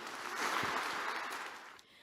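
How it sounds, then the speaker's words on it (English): A conference audience applauds a speaker in a steady, even wash of clapping that holds for about two seconds and then tapers off. "Give a warm round of applause to Jessica Chan."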